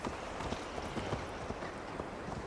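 Horse galloping in Assassin's Creed Valhalla, a steady rapid clip-clop of hooves under a constant ambient wash, moderately faint, with no talking.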